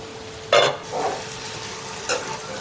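Mutton curry stirred in a pan just after the lid comes off: one loud scrape and clatter, a softer stroke, then another sharp scrape, close by over a quiet sizzle.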